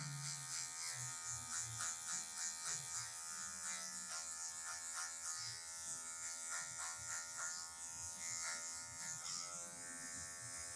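An electric hair clipper buzzes steadily and close while cutting long hair for a taper fade, with only the tip of the blade used. Short rhythmic strokes and combing sounds run through the steady motor hum.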